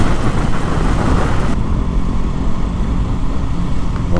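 Honda Grom motorcycles ride along a road in Devon, a loud continuous engine drone mixed with heavy wind rush from a close, moving rider, its roar steady and unbroken.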